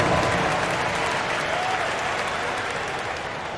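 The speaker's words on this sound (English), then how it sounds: "Give yourself a round of applause." Arena crowd applause in an NBA 2K25 basketball game, Spurs versus Jazz, a dense steady clapping and cheering that slowly fades, with no voices over it.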